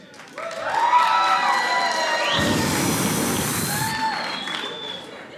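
Single audience members at a comedy show in Provo, Utah burst into loud whoops, shouts and cheers that rise quickly and stay strong, with scattered clapping mixed into the crowd noise.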